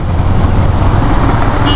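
A Lamborghini on a busy Chennai road goes by amid loud traffic, a brief close rumbling engine roar mixed with surrounding vehicle noise.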